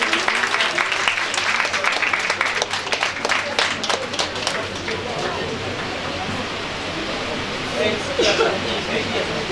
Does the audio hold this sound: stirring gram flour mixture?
no